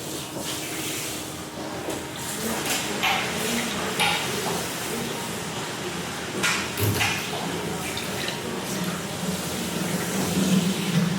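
Running water rinses through a human hair wig, a steady broadband wash of splashing and trickling with a faint hiss, rubbing and handling noises mixed in.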